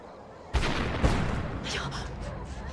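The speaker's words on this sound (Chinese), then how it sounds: "可能是讨逆军在用炸药炸城门。" An explosive charge blasts a city gate during a battle in 1917 Beijing. A sudden loud boom is followed by a second sharp blast and rumbling, crackling aftermath. Voices are heard faintly around it.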